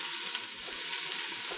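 Minestrone being stirred in a non-stick pot with a heat-resistant spatula, a steady close sizzle with soft scraping strokes, no talking.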